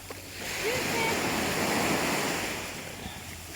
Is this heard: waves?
yes